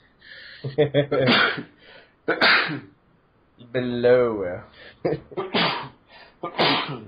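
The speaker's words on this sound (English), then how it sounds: "He's sneezing." A man sneezes in sharp, loud bursts, one after another with brief pauses between them, interrupted at one point by a short spoken word nearby.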